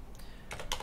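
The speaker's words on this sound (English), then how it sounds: "Then we need to type a lot of things in the nano etc hosts." Keystrokes on a computer keyboard during an Arch Linux install, a few quick taps clustered near the end of the short stretch, close and fairly quiet.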